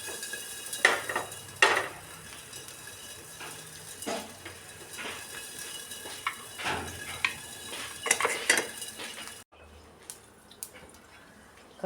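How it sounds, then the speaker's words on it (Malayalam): Mustard seeds pop and splutter in hot coconut oil in a pan, giving sharp, irregular crackles over a low sizzle with a few utensil clinks, close by, before the frying quiets near the end. "എണ്ണ ചൂടാകുമ്പോൾ കടുകിട്ട് പൊട്ടിച്ചു കൊടുക്കാം."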